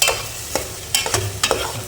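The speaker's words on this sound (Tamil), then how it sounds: "அப்படியே மிக்ஸ் பண்ணி விட்டுருங்க. எண்ணெயில் கொஞ்சம் அப்படியே வதங்கட்டும்" Brinjal stirred and fried in oil for a kulambu: close, crisp spatula strokes scrape the pan in quick uneven bursts over a continuous low sizzle.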